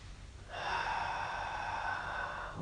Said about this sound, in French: Prenez une respiration profonde.